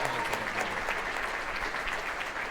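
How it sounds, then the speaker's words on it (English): Steady applause from a concert audience at a holiday jazz band performance, with continuous clapping filling the whole moment at a moderate level and no speech over it. "can we give one other round of applause to AMS"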